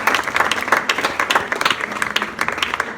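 A church congregation applauds to acclaim the Lord during a celebration service, sustained dense clapping throughout with a few louder claps standing out.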